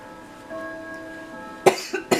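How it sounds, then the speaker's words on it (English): A woman coughs twice, close and fairly loud, the first sharp and the second shorter, after a quiet stretch with faint background tones. "I don't know, I get this cough all of a sudden."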